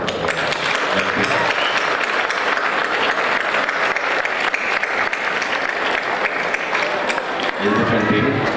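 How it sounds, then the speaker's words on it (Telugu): Sustained audience applause at a student event honouring teachers, dense and loud throughout with a touch of crowd noise, steady from start to finish with a slight swell near the end. "మీ గురువులకి చప్పట్లు కొట్టాలి"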